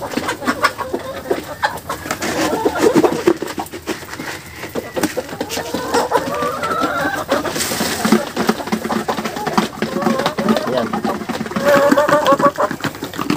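Chickens clucking and murmuring at feeding time inside their housing, a busy flock close by with overlapping calls and scratching, someone talking over them.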